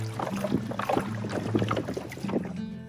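A kayak paddle dips and strokes through calm coastal water near a sea cave on the Lagos coast, giving soft rhythmic splashes and drips close by over a low hum.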